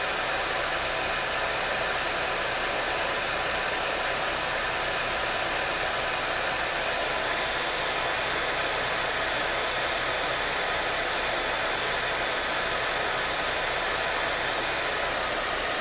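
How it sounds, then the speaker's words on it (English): A lightweight Tormach PCNC 1100 CNC mill runs while taking small cuts, a steady hissing whir at constant level throughout with no pauses. "this is a very lightweight machine, and I gotta take the smallest of cuts"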